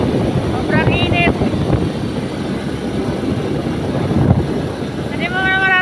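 Wind rushing steadily into an open-air tricycle travelling along Candelaria National Highway in Quezon, a constant broadband roar with engine rumble beneath, brief whistling tones and occasional voices.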